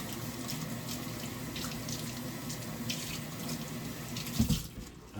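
A kitchen tap runs in a steady, faint, continuous stream to soak a brand-new yellow towel. A short knock or splash comes near the end, then the flow resumes.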